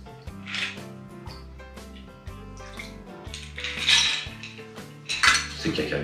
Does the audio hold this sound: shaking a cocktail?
yes